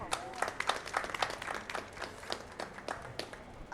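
Audience applause at a panel on culture, sustainability and climate change in the COP 30 Blue Zone, a steady patter of many hands clapping at moderate volume with a faint voice underneath.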